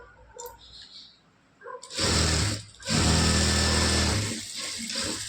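A sewing machine stitches a blouse: after a quiet start with a few faint clicks, the motor whirs loudly in a sustained run, pauses briefly, then runs again and eases off.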